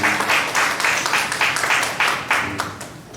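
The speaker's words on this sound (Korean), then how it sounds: "하나님께 영광의 박수 올려드리겠습니다." A church congregation at a Korean high-school worship service claps together in a steady, rhythmic beat, loud and sustained throughout.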